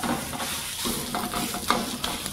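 Food sizzles and roasts in a pan while being turned and stirred, a steady close crackling hiss with small scraping bursts, no voices.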